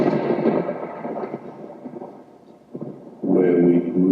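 Booming thunder effect, a heavy rumble that fades into a lull, then crashes back in loud and sustained near the end, with no one talking over it.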